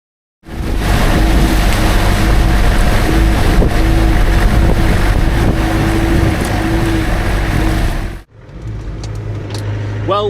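An old Land Rover Defender drives home on a January day, its loud, steady engine drone mixed with heavy wind noise before the sound drops out abruptly near the end.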